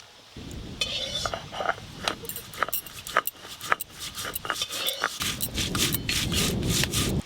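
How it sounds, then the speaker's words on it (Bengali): Poppy seeds and cashew nuts are ground into a paste, likely by hand on a stone in a village kitchen. A repeated scraping, rubbing rhythm carries steadily throughout, close and fairly loud, with occasional light clinks. "পোস্ত আর কাজু বাদাম একসঙ্গে বেটে নেবো"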